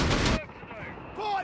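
Enemy gunfire in the video game Company of Heroes 3: a loud burst of shots at the start, then quieter battle noise, with voiced game callouts over it.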